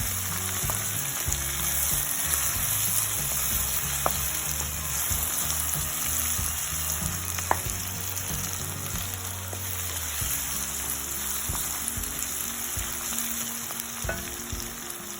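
Mutton frying with fennel and black seeds in a pan, stirred steadily: a continuous loud sizzle with repeated scraping and clinking of a utensil against the pan, and no voices.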